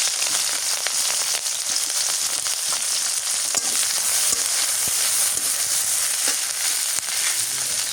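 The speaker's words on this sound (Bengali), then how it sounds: "এখন হচ্ছে এই যে ছোট আলু দিয়ে বরবটি ভাজি করি, শুটকি দিয়ে ভাজি করবো।" Yardlong beans with small potatoes and dried mola fish fry in oil, a steady dense sizzle running evenly throughout with occasional faint stirring clicks.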